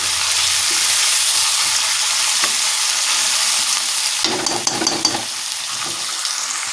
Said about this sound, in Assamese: যোনখিনি পিঁয়াজ আছিলে সেইখিনিও দি দিম, আৰু এই তেজপাতকেইটাও দি দিম। এইখিনি অকণমান আমি ভালকৈ ফ্ৰাই কৰি ল'ব লাগিব